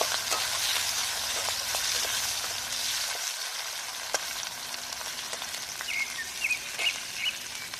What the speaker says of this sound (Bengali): ক্যাপসিকামটা একটু ভেজে নেবে